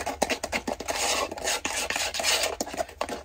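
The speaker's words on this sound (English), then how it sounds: "Just using a spatula to stir this." A spatula stirs powdered oxide into a coating mix for a reptile background, giving repeated close scraping, rasping strokes in an irregular rhythm with no voices.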